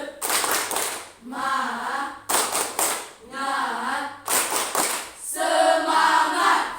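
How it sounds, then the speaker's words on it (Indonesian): A group in a classroom coaching session performs the Indonesian 'tepuk semangat' rhythmic clap routine: three bursts of sharp patterned claps, each followed by voices chanting together. "Tepuk semangat."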